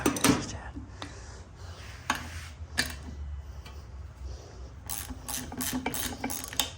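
Socket wrench working loose the nuts on a Suzuki LTZ 400 quad: several sharp metallic clicks and ratcheting bursts, with a quick run of rapid clicks near the end, close and fairly faint over low background hum.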